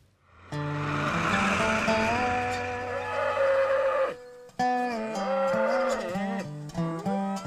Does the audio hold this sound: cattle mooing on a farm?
yes